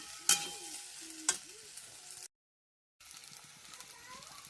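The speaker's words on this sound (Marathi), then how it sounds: "पास्ता टाकला मी, मसाला पण टाकला त्यामध्ये आणि आता तो परतून घेतलाय मस्त।" Pasta with masala is stirred and sautéed in a pan, with a soft continuous sizzle and a couple of sharp spoon clinks against the pan up close, broken by a brief silent gap.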